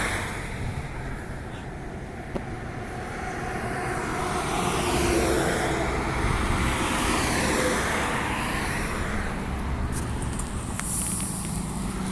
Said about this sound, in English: there goes 2686 departing at one of the very few 389 only bus stops